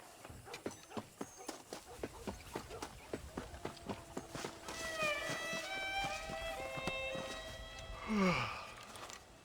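Horse hooves clip-clop at a steady trot during riding in the video game Red Dead Redemption. The beat is close and even, and voices talk over the later part.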